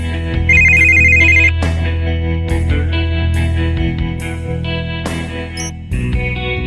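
A phone rings in the video game Sleepless Nights, a loud electronic ringtone playing a repeating melodic pattern with bright tones, continuous for several seconds and alone.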